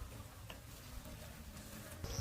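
Honeybees buzz steadily at close range around fresh honey in a village setting, a soft continuous drone with a brief louder swell near the end.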